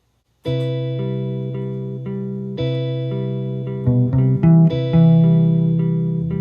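Electric guitar improvising lines over seventh chord arpeggios, sustained clean notes ringing close and clear after a silent start, with shifting pitches and a few quicker note changes toward the end.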